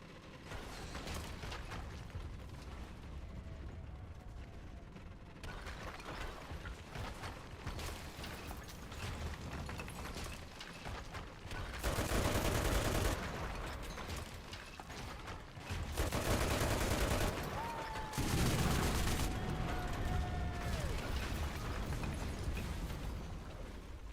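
Video game battlefield noise with artillery and gunfire: dense rumbling booms and crackling shots that rise into several loud surges, with a whistling tone near the end.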